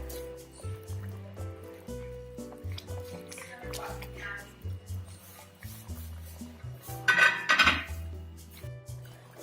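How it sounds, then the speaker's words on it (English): A cooking pot of garbanzo beans clinks as its metal lid is set back on, with a sharp clatter standing out over background music and kitchen noise. "I'll cover back the pot."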